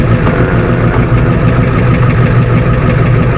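Ford F250 diesel truck engine idling on its own, a loud close rumbling clatter that stays steady and even throughout.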